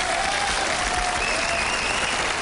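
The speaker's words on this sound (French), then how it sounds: "vous pouvez l'applaudir" Spectators in packed grandstands at a horse racecourse applaud steadily, a dense, continuous wash of clapping from a large crowd with no voices over it.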